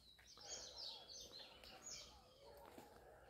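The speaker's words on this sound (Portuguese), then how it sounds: "Agora só ouve os barulhos dos pássaros cantando." Birds sing and chirp faintly in a quiet residential setting among houses, with a few thin high calls over soft background hush.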